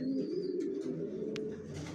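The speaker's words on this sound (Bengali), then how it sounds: "দেখুন এখনই জোড়া নেওয়ার জন্য ডাকতেছে" A racer pigeon coos close by to call a mate, a low continuous rolling coo with a faint chirp or two over it.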